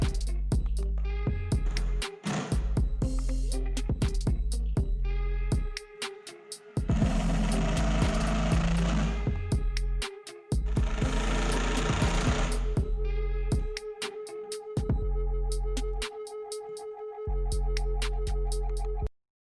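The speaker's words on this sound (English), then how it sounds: "we were just drilling on the side and we only drilled one screw into the middle" Cordless drill driving screws into a wooden bike ramp, with several long whirring bursts that rise and cut off, broken by short pauses and quieter spells, loud and close, with no talking.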